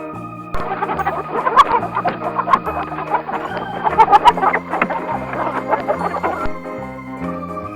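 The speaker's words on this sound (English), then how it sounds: "Hen." Hen clucking close and clear in a rapid, uneven series of short calls over a steady background of soft music.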